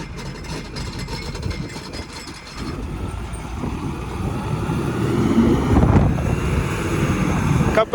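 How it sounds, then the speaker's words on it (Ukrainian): Wind gusts buffet the microphone with a low, rumbling roar that swells louder in the second half, steady and close without any voices, beside a tractor in a field at minus 11 degrees. "Тільки сказав, що вітру нема, заточніше, так він налетів откуда не возьмись."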